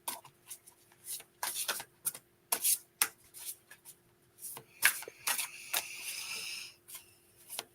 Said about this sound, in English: I'm going to shuffle our cards